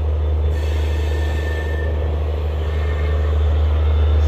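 A diesel passenger train hauled by an EMD locomotive runs on the Jabalpur–Veraval route, heard as a loud, steady low rumble with a faint whine on top and no voices.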